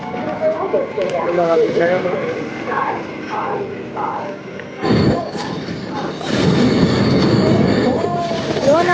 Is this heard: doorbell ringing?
no